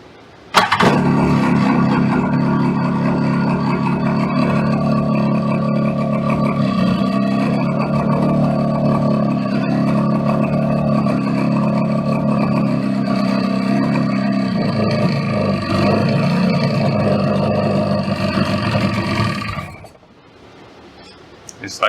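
Personal watercraft engine idling steadily while being fogged with oil during winterizing, flame arresters removed, a loud continuous close-up drone that runs for about twenty seconds and then cuts off abruptly.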